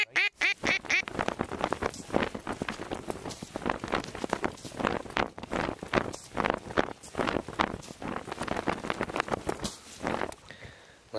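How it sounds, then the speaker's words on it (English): Ducks quack repeatedly over a dry field in Alberta, a rapid run of raspy calls, fairly close and loud, with a faint wind rumble behind them. "Look at these ducks."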